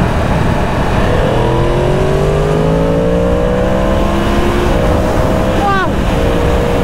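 A 2022 Yamaha MT-10 SP motorcycle accelerating hard, engine note climbing steadily through the gears in long rising sweeps, loud and close with constant wind rush and a brief higher whine near the end.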